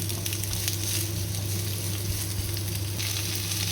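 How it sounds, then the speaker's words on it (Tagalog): Onions sautéing in a hot pan for a baked chicken and potato dish give off a steady, close crackling sizzle over a low background hum, unbroken for the few seconds. "Igisa natin yung sibuyas."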